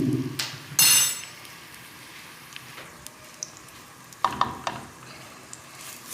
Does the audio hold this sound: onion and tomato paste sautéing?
yes